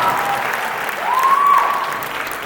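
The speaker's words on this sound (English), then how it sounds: "Ladies and gentlemen, round of applause one more time." Audience applause rolls through the 2024 Blue Bulls rugby annual awards ceremony, a full, even wash of clapping from a large crowd, with a brief sharp whistle rising over it midway.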